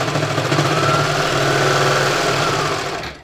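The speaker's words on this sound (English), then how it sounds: "And I'm going to stitch that back seam." A sewing machine stitches the back seam of a reversible fleece hat, a fast, steady mechanical hum and rattle close by, running continuously and winding down at the end, no talking.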